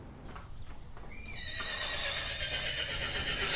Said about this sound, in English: let's drop our horse sound into place and take another look